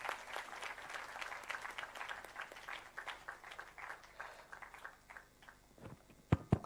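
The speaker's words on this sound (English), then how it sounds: "Big round of applause for Weber," Audience applause at a symposium follows a speaker's talk, a thinning patter of hand claps that tapers off over several seconds, with a couple of sharper, louder claps near the end.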